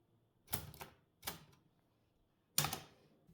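Olivetti M80 typewriter being operated, with a few sharp mechanical clacks and rattles in separate bursts, the last one loudest, against near silence.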